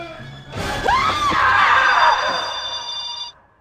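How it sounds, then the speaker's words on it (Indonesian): A woman screams hysterically in a film scene, a loud rising-and-falling shriek lasting about three seconds that then cuts off abruptly. "seorang karyawan wanita yang lewat berteriak histeris dengan apa yang dilihatnya"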